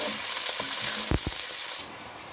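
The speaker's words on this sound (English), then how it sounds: "we need to really brown the onions" Onions brown in a pan for matar pilau with a constant close sizzle. A couple of sharp scrapes from stirring break in, then the sizzle fades a little toward the end.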